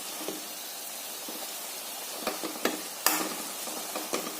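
Spinach leaves cook in a pan with salt and turmeric, giving a faint, soft sizzle under scattered clinks and scrapes of a stirring spoon.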